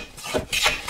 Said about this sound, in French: Petit coup de rabot, un petit coup d'outil manuel